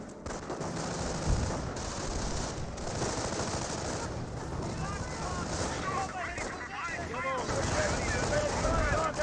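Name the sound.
gunfire on Grenadier squad in video game Company of Heroes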